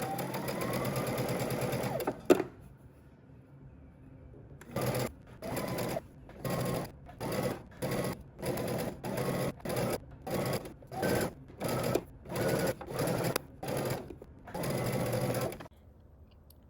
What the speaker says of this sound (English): you're going to go ahead and sew using 3/8 of an inch seam allowance